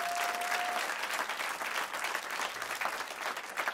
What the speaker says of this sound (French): acclamez Dieu pour vos vies ce soir